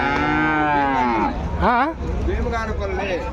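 Several close Jersey calf moos in quick succession, one higher and wavering in the middle, with a faint murmur of people nearby at a livestock market in Punganur.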